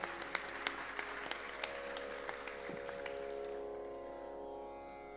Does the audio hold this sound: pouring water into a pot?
no